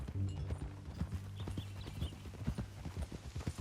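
Horse hooves clip-clop steadily in Red Dead Redemption 2, a close, rhythmic walking gait under a low engine-like hum, with no talk in the clip.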